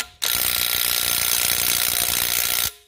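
A Snap-on CT9010 brushless 3/8-inch cordless impact wrench removes a bolt near a vehicle's motor mounts: one steady, loud burst of rapid hammering that runs about two and a half seconds and then cuts off, with no voices.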